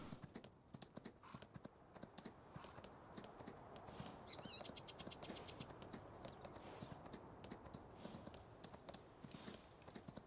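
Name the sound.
horse Shiver's hooves clip-clopping while riding, from video game Farming Simulator 19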